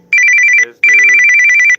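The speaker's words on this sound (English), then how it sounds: "that's my alarm to clock in and out of work." Loud electronic alarm used to signal clocking in and out of work, two bursts of rapid trilling bell-like ringing separated by a brief gap, with a voice speaking faintly underneath.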